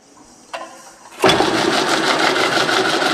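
Spur gears transfer motion between two parallel shafts as the machine starts: a faint knock, then a sudden loud, steady mechanical whirring drone that continues unbroken.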